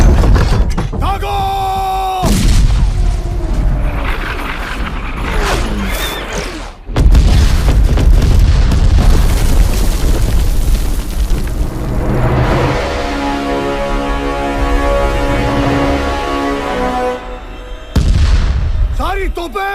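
Deep booming blasts like cannon fire, several heavy explosions amid shouting voices and clamor, loud and close.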